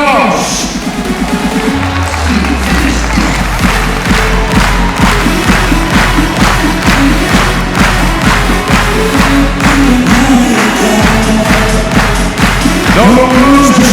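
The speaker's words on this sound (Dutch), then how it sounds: "Ik zou zeggen, muziek en applaus." Loud crowd cheering and applause fill an indoor horse show. Pounding, rhythmic music drives underneath, and a voice calls over it throughout.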